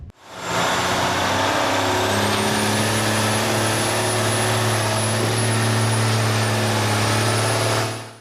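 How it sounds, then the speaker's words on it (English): Heavy oversized transport truck hauling a tank, its engine straining loudly as it struggles through thick, slippery mud, a sustained deep roar with a high whine layered above, holding steady for several seconds before cutting off. "He increased the speed, and you can imagine the scene with the engine sound."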